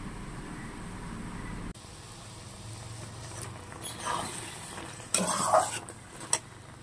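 A spatula scrapes and clinks through Malabar spinach curry in a pan, with soft sizzling under a few louder stirring strokes and knocks near the end.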